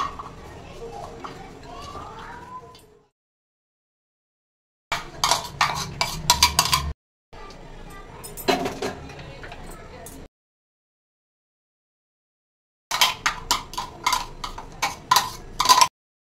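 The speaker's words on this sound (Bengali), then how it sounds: "এবার এই সবজিগুলো আমি ছোট ছোট করে চপারে ঢেলে কুচি করে নেব।" Vegetable chopper dicing beans, capsicum and carrot in short bursts of rapid clattering blade strikes, separated by silent pauses, fairly close.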